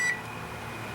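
A cooking timer for a chocolate pound cake sounds a short, bright steady beep at the very start, then cuts off, leaving a quiet kitchen hum.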